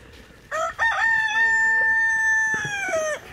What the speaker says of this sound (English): That rooster, man.